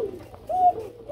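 Red pigeons in a loft coo softly, giving a few short, low, throaty calls with a brief pause between them against a quiet background.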